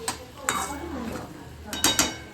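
Spoon or ladle scraping and clinking against a metal kadai while food is stirred and mixed, with coriander being added, several sharp scrapes and taps over a low background hum.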